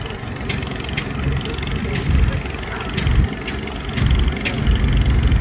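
A 1927 McCormick 1530 tractor engine runs at a show, a steady low rumble that swells and eases in waves, with sharp periodic knocks and clatters over the running engine.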